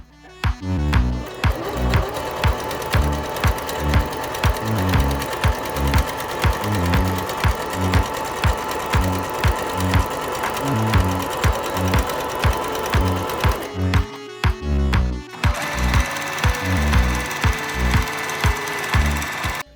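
A sewing machine runs a zigzag seam on fabric for a drawstring bag, its loud rapid needle thumps steady and close, pausing briefly near the end before stitching on.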